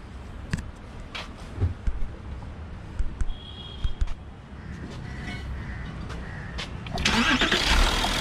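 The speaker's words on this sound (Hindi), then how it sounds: "तो करते हैं इस कार को स्टार्ट।" An Audi Q7 with low coolant and an overheating engine cranks over after a few clicks and handling noises, then catches and settles into a steady idle near the end.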